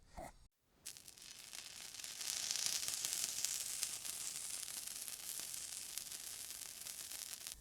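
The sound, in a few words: cheese sizzling while frying on a Blackstone griddle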